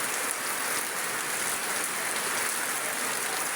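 Rainwater flowing along a natural channel, a dense, even rush of water like steady rain, continuous and close with no voices.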